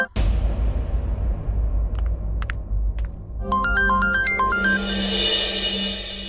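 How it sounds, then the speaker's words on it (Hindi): An incoming-call ringtone on a phone in a family home plays a bright, repeating electronic melody that starts partway through and keeps cycling loudly. Before it, a few short clicks sound over a low background hum. "तुम्हारा फोन आ रहा है।"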